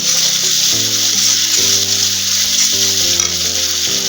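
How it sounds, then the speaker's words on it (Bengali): Pangas fish frying in a pan with salt just added, being stirred: a steady, close sizzle with broadband hiss and repeated scraping stir strokes, punctuated by faint clanks of the utensil. "লবণ দিয়ে একটু নাড়াচাড়া করে নিতে হবে"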